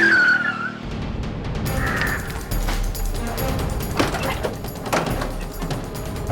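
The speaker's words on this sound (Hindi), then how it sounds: "बस रोको गाड़ी।" A car brakes hard to a stop, its tires squealing and skidding up close. Loud mechanical clatter and rumbling road noise continue afterward, with no one talking.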